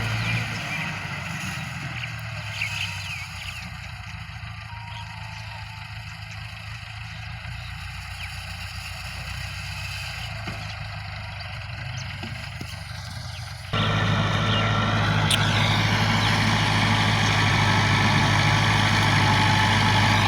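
A Massey Ferguson MF285 tractor running a 54-blade rotavator holds a steady low idle-like drone at around 1200 to 1300 RPM, then grows suddenly louder and closer partway through.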